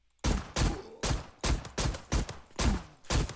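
Shots ring out in the zombie survival game Zompiercer, about seven loud, close bursts spaced a half second or so apart, each with a short decaying tail and no talking.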